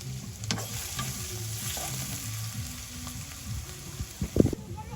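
Potatoes and greens fry in a pan in a village kitchen in Hatiya, a low continuous sizzle with a few stirring scrapes and a louder clatter near the end.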